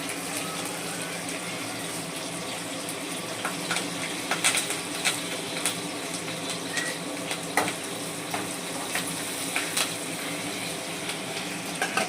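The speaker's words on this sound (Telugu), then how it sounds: "లైట్గా ఉల్లిగడ్డ పచ్చిమిర్చి కరివేపాకు కూడా వేసుకుంటాను." Sliced onion, green chili and curry leaves sizzle in hot oil in a pan, a steady close hiss with scattered sharp pops and crackles running throughout, no voices over it.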